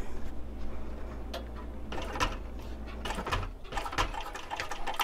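A sewing machine stitches a band onto a clutch bag, running in a steady close mechanical patter with faint ticking clicks through the stretch, alone without talk.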